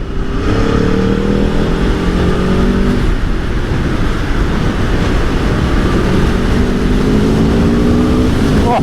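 A 2023 Aprilia Tuono 1100 V4 Factory motorcycle engine revs hard and loud, a sustained close roar with rising and falling pitch sweeps as the throttle is worked.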